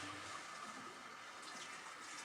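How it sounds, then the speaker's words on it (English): Hot water gushing steadily out of a garden hose from an opened outdoor valve while a house is winterized, a broad continuous hiss at moderate level with no talking. "And now there goes our water's flowing out the hose."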